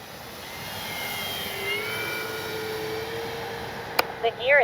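An FMS P-47 Thunderbolt RC model warbird airplane passes by with a steady, moderate engine drone that swells slightly. A voice is heard briefly near the end.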